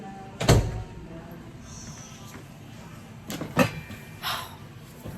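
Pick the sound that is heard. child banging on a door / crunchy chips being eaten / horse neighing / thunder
child banging on a door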